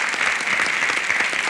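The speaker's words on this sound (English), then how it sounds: "How about a round of applause" A dense burst of clapping from an audience at a storytelling contest fills the moment, steady and loud, with no voices standing out.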